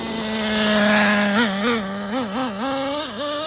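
Traxxas Nitro Slash nitro RC truck engine buzzing at a steady high pitch, then revving up and down in several quick, wavering bursts, loud and close with no voices.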